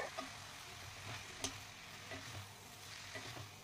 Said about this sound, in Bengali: দুটো স্প্যাচুলার সাহায্যে আমি সমস্ত কিছু উলটপালট করে হাই ফ্লেমে ভাজতে শুরু করলাম।